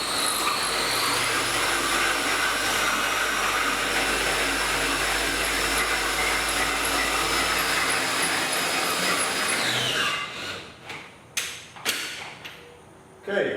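A power drill driving a Thule rooftop cargo box hoist whines steadily for about ten seconds, then cuts off, followed by a few sharp thumps and clunks.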